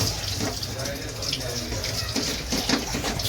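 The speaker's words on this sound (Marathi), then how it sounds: "थोडंसं नावाला पाणी टाक" Water runs steadily from a tap or container into a cooking pan, a continuous close rushing sound with a voice talking over it.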